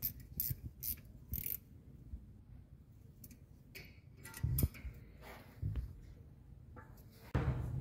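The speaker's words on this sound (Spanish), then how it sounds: "una vez apretado del caliper, apretamos los tornillos del portacaliper" A ratchet tightens the brake caliper bracket bolts on a VW Vento, with sparse close clicks and ratcheting bursts separated by quiet gaps in a workshop.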